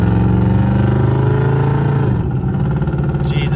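A pickup truck on Boggers mud tires, in tow haul mode, accelerates hard with a loud, close, droning engine roar. Pitch climbs steadily, then a firm gear shift drops the tone partway through.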